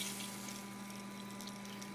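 Water flows through a Flow-Rite battery watering system into a forklift battery, a faint steady hiss and trickle with a constant low hum underneath, continuous and even throughout.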